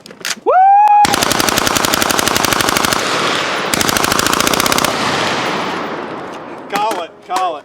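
An LMT rifle fires fully automatic bursts during a meltdown test, loud and close, as two long, rapid strings of shots ring out with echoing tails, and voices shout briefly before and after.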